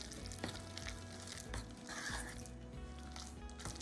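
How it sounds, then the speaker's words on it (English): A spoon stirs a thick tomato pie topping mixture in a bowl, making a soft, continuous wet scraping and squishing sound. It stays quiet and close throughout, with no speech. "Just keep stirring until you get it mixed well."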